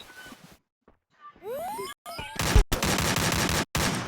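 Rapid bursts of gunfire in a 4v4 online shooter match come after a short gliding, whooshing effect and fill the second half loudly and near, with brief gaps between volleys.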